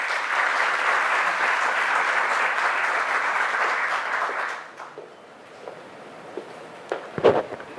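Audience applause welcoming a speaker, the Dominican Republic's representative to UNESCO, at a social sciences and human rights panel; dense steady clapping for about four seconds, then dying away into scattered claps and footsteps.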